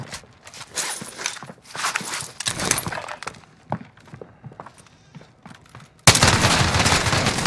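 Video game gunfire in bursts of sharp shots, loud and close, separated by quieter stretches, ending in a sustained dense burst of firing.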